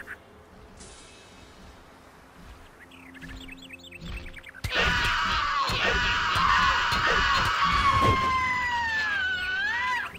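Creatures screech and wail in Gothic 2, breaking in loudly after a quieter stretch of game ambience and holding on with long wavering, siren-like cries until the end.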